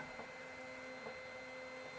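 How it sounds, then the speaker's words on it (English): Brother MFC-L2900DW printer feeding pages through while scanning, a faint steady mechanical whir and hum with a few soft clicks, quiet and continuous with no talking. "the printer will take page by page"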